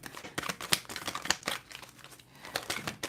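Tarot cards being shuffled by hand, a run of quick papery riffles and crinkly rustles in uneven bursts, close and fairly faint, with no talking.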